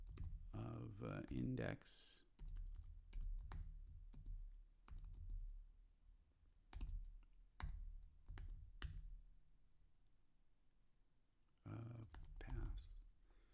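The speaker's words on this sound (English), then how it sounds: "So now, now I may have to type" Quick bursts of typing on a computer keyboard, clustered clicks separated by pauses, close and clear, with someone speaking briefly over the keys.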